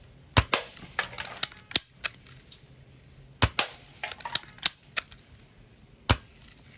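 A Daisy model 188 BB gun fires a series of sharp, close cracks with irregular spacing, interspersed with softer mechanical clicks from cocking, and no talking.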